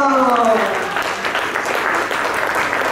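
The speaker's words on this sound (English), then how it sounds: "So can you have a round of applause for Anuradha?" A conference audience breaks into applause at a closing ceremony, loud close clapping that starts under a voice and then carries on alone, full and sustained.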